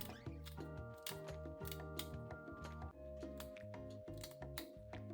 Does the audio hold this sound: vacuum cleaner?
no